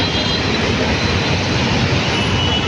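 A heavy luxury bus engine roars close by in a steady, loud rumble that doesn't let up as the bus arrives, with no voices over it.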